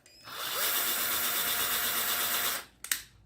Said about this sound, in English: move to the left and drill another hole